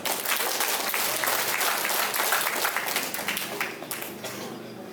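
A crowd claps loudly at a political gathering in Bima, the dense ovation holding strong before thinning and fading out toward the end, with a few voices under it.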